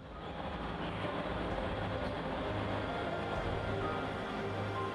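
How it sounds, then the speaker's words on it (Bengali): A blue-and-red DMU train rushes past at Srinagar in Jammu and Kashmir, a loud, steady rumble and rolling clatter of wheels on rail that fills the whole stretch without a break. "শ্রীনগর দিয়ে হুশ করে চলে গেল সুদৃশ্য নীল-লাল ট্রেন"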